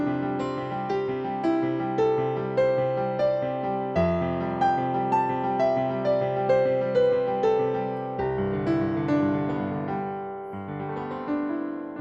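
Piano playing a synced 1-5-9 pattern, with left-hand bass notes and right-hand notes struck together in an even, repeating rhythm. Chord changes come every few seconds, clear and solo with no talking.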